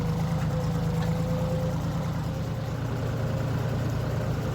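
A farm tractor engine runs steadily and close while ploughing a field, a continuous low rumble with a constant engine hum and no pauses.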